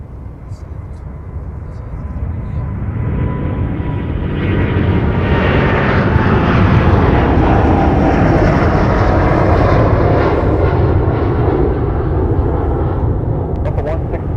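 Airplane engines roar at MSP airport, a loud jet rumble swelling and holding steady as an aircraft powers up and passes close.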